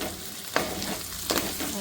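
Village-style chicken fry with curry leaves cooking in a pan: a close, dense sizzle with two quick stirring scrapes.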